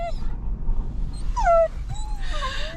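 Dogs inside a parked car waiting for a ferry from Newfoundland whimper and yip in high, thin whines, several short cries close by over a low engine-like hum.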